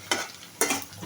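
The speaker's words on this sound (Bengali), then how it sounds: "দেখুন একটু পেঁয়াজটা রসুনটা একটু ভালো করে ভাজা মতো হলে" Onion and garlic frying in oil in a pan for a cabbage and tengra fish dish, two bursts of sizzle as the pan is stirred, close and moderately loud.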